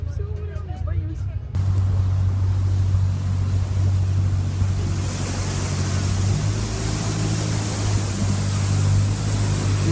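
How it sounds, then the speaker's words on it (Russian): A motorboat engine in Saint Petersburg starts with a sudden rumble after a short quiet moment, then runs steadily with a low droning hum and broad water noise. "катер завелся"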